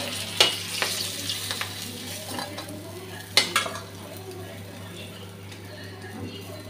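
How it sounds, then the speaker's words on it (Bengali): Hilsa fish head and tail, rubbed with salt and turmeric, frying in oil with a soft steady sizzle, broken by a couple of sharp utensil clinks and stirring scrapes, while a person talks. "মাথাটা আর লেজটা আমি নুন হলুদ মেখে নিয়েছি, এখন ভেজে নিচ্ছি।"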